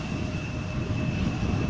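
Emirates Airbus A380 landing at Amsterdam Schiphol in a crosswind, a steady broad engine roar with a faint whine, distant and continuous throughout.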